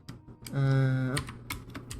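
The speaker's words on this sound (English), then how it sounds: "Got to get used to these US keyboards." Quick clicks of typing on a US-layout computer keyboard come in scattered bursts of keystrokes. A voice talks over and between them.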